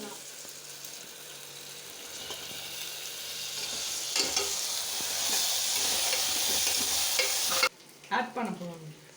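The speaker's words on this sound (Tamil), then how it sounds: "காஞ்ச மிளகாய், தக்காளி நல்லா வதங்கிடுச்சு." Dried chillies and tomatoes sauté in a pan while being stirred for vegetable rice, with a steady close sizzle and hiss that builds and then cuts off abruptly near the end, followed by a voice speaking briefly.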